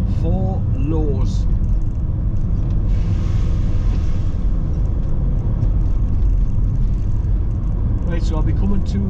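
Car cruising along the A696 road in Northumberland, a loud constant road rumble and engine drone from inside the cabin, with brief bits of a voice talking at the start and end.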